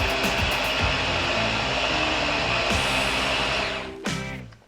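Blender whirring loudly as it grinds chocolate mousse ingredients, a steady high motor drone that runs continuously, then winds down, briefly surges again and cuts off.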